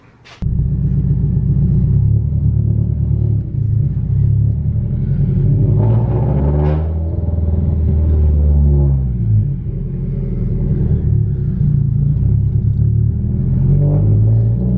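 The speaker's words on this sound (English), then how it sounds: "you can hear that fucking turbo spool hella loud" Loud, steady engine rumble from inside a Subaru STI, with a rising whine building as the engine revs and the turbo spools up loudly.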